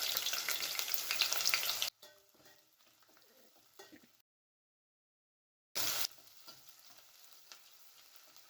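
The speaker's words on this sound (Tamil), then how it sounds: "சின்ன வெங்காயம் நறுக்குனது ஒரு கை அளவு அதையும் சேர்த்து நல்லா எண்ணெயிலே வதக்கிக்கிறேன்" Chopped shallots sauté in oil with garlic in a home kitchen. A loud sizzle suddenly drops to a quiet crackle with faint stirring, then goes silent. A brief loud burst of frying returns before settling to a low sizzle.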